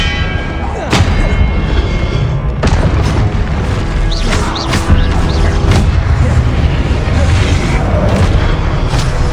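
Repeated heavy spell blasts from the Confringo blasting charm in Hogwarts Legacy, a dense run of booming explosions with sharp onsets around one and two and a half seconds over a loud, continuous rumbling battle din.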